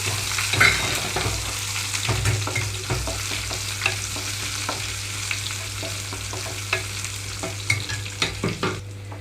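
Sliced onions and curry leaves hit hot oil for a tomato rasam and crackle in a continuous close sizzle. Occasional clicks and scrapes from a stirring spoon sit over a low steady hum.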